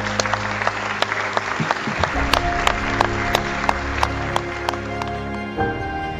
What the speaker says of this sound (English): That is an applause around Kenilworth Road.